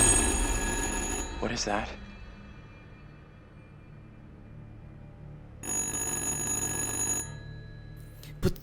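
A telephone rings in the horror video game Little Hope, sounding as two separate bursts of bright trilling bells, with a short spoken question between them and a faint low background hum.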